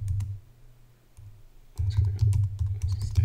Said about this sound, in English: don't know why I was typing that twice